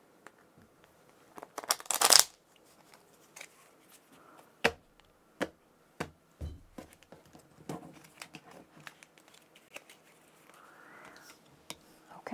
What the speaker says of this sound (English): Do one more little shuffle here.